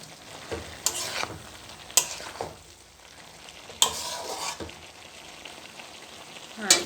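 Cauliflower and potato fry stirred in a pan with a spatula, producing scraping strokes at irregular intervals over a soft background sizzle.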